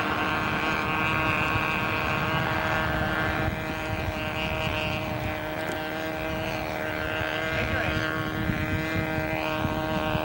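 A radio-controlled model airplane flying slow and low drones steadily with a buzzing, propeller-driven engine tone that holds fairly constant, rising and dipping slightly as it passes.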